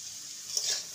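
Bitter gourd and pumpkin with turmeric and salt being stirred in a pan, giving a brief, soft sizzle with a single faint scrape, and no voices.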